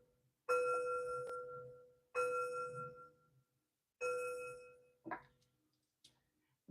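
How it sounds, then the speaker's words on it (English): Three bright metal chimes ring out one after another, each struck cleanly and left to shimmer and fade in a quiet room, followed by a couple of faint soft taps. "3 chimes to bring in positive energy."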